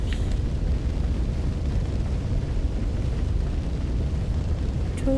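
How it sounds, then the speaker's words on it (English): A blaze in the game Dark Souls III, where everything is on fire, heard as a loud, steady low roar and rumble with no talking. "Everything is on fire."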